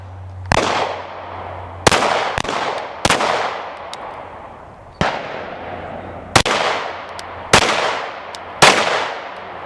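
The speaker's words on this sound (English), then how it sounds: "Hold on. She's still shooting." A Canik TP9SF pistol fires at an outdoor range, with about eight loud, sharp shots spaced irregularly about a second apart. Each shot rings briefly before decaying, and no one talks over them.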